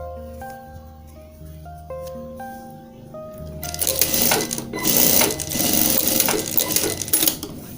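Sewing machine stitching down the middle of a wallet made from old denim jeans, running in a steady rapid clatter that grows louder partway through, with no talking.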